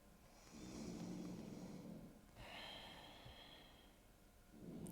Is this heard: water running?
no